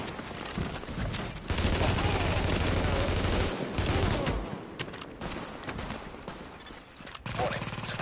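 Sustained gunfire from The Division video game, with enemies attacking supplies, rattles in dense bursts for several seconds, a brief gap near the middle, while a voice talks over the shooting.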